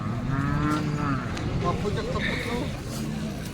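A cow at a cattle market in Modnimb, India moos a few times, low drawn-out calls heard close by over steady background noise.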